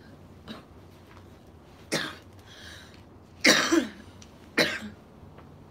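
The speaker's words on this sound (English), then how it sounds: "I was trying to cough while I was drinking that." Several short, harsh coughs ring out in separate bursts, close by, with quiet pauses between them, from someone smoking a blunt.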